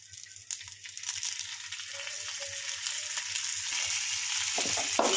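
Stuffed okra (bhindi) frying in oil in a pan, a soft sizzle that starts faint and grows steadily louder and crackly as oil is added, heard close up with no talking.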